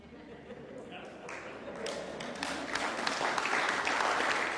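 Applause from a church worship congregation, beginning as scattered claps and building into steady, fuller clapping that grows louder toward the end, heard from within the room.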